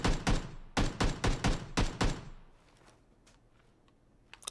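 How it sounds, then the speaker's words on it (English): PUBG video game gunfire: several rapid, loud shots in quick succession, then quieter distant rattling as the shooting fades. "Oh, he's shooting at me."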